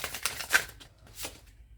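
Tarot deck shuffled by hand in a few quick riffling bursts, close and crisp, with short pauses between passes.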